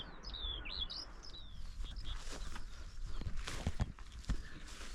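Skylark singing over the Purbeck coast, bright high warbling phrases near the start then further faint calls, set over soft wind and crunching footsteps on a walking path.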